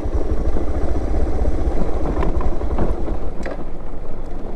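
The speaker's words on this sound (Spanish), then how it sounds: "vamos a apagar la moto para evitar un poquito el escándalo" A motorcycle engine idles with a rough, continuous low rumble, buffeted by wind noise, with no voices.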